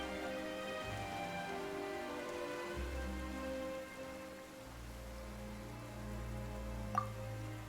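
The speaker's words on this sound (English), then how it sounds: "Why is it raining all of a sudden?" Soft steady patter of rain falling in the video game Genshin Impact, with a low hum underneath and a single brighter drip near the end; quiet and without speech.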